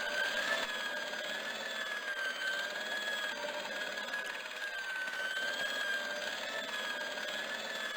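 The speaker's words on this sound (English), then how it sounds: "The connector in the socket supplied electricity to the polishing machine." A polishing machine running in the Broken Sword video game, a steady whirring mechanical hum with a sustained tonal whine holding at an even level the whole time, with no speech.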